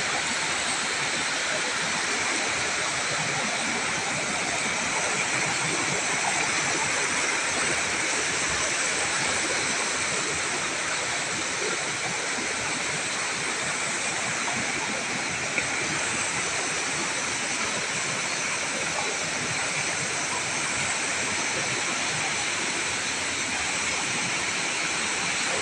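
Water flows steadily in a continuous rushing wash, like a stream or small waterfall close by, holding an even level throughout with no talk.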